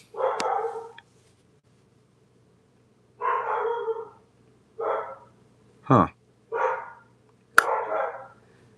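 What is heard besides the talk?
dogs barking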